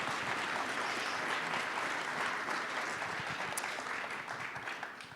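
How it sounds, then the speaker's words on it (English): An audience claps for panelists at a college business conversation event, a dense, steady round of applause that holds throughout and thins slightly toward the end. "a round of applause for all of our panelists for joining us"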